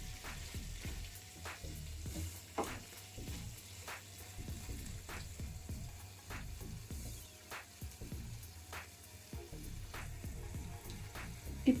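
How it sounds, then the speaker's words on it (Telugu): Stuffed brinjals (gutti vankaya) with green chillies frying in oil in a pan, a steady crackling sizzle with scattered pops and light stirring knocks throughout, close and continuous with no talk. "రెండు నిమిషాలు ఆయిల్లో వేయించుకోవడం వల్ల టేస్ట్ బాగుంటుంది."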